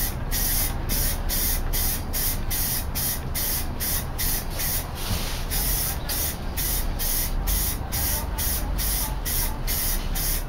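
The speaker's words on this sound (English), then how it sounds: "some of these cans spray better than others" Aerosol spray paint cans laying fire-red paint onto a Corvette give a loud, close, continuous hiss that pulses in a steady rhythm as the can sweeps back and forth, with no talk over it.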